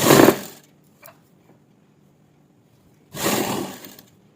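A sewing machine stitches the hem of a simple suit in two short mechanical bursts, one at the start and a longer run near the end, separated by near silence.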